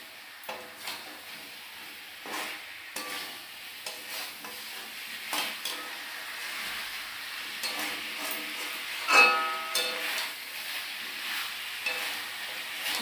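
Meat fries in oil in a pan, a steady soft sizzle with scattered stirring scrapes and clicks, close and moderately quiet throughout.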